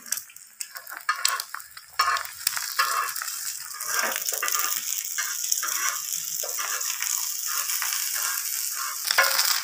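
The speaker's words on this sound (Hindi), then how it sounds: "तो ये हम अपने लिए ये अंडा बना रहे हैं।" Eggs frying in a pan at breakfast in a village home, a steady close sizzle with stirring and scraping clatter early on, no talk over it.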